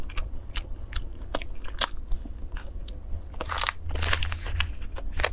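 Grape-flavoured sachima pastry bitten and chewed up close, with a steady run of crisp crunches and soft wet chewing sounds and no talking.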